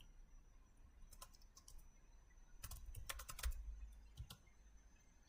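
Close, quiet computer keyboard typing, with short bursts of key clicks that cluster into a quick flurry partway through as a bank scheme name is typed into a search box.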